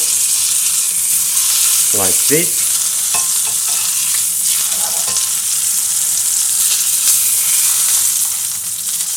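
Steak sizzles steadily in a hot pan, a loud continuous crackle with a brief spoken remark early on.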